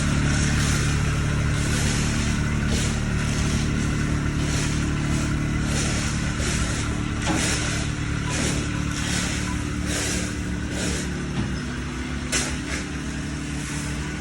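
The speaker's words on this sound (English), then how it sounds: "That's how they're bringing the aggregate in. They've got it in the back of the truck." A truck hauls aggregate for a concrete slab at a shed build site, its engine a steady loud rumble throughout with occasional rising revs, close by and continuous with no talk.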